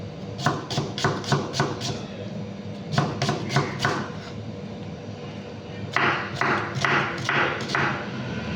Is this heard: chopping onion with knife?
yes